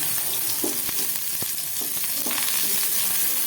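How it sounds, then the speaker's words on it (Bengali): Capsicum sizzling in hot white oil in a frying pan, a steady bright crackle with a few soft clinks or stirs, close and continuous with no talk. "সেই কারণে এখন ক্যাপসিকামটা দিয়ে দিচ্ছি"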